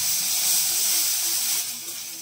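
Garlic paste sizzles as it drops into hot oil already holding dried red chili, whole cardamom and cloves, cooked for a Bengali bhola fish oil jhal: a steady, bright hiss that holds for a couple of seconds and eases slightly at the end.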